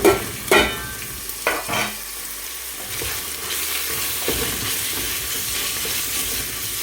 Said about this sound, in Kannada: ಎಷ್ಟೈತೆ ಅಷ್ಟು ಫುಲ್ ಈರುಳ್ಳಿ ಒಂದೇ ಸರ್ತಿ ಹಾಕ್ಬಿಟ್ರಿ.